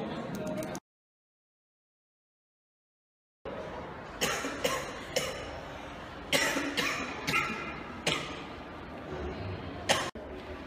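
Several sharp coughs come in irregular bursts after a short stretch of silence, close and fairly loud, with brief pauses between them.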